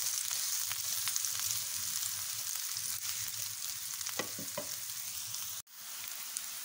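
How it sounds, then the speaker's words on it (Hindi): Chopped medium onions frying in hot oil, a steady close sizzle with a few soft stirring knocks near the end, then a brief pause before the sizzle resumes. "इनको थोड़ा हल्का सा फ्राई करेंगे।"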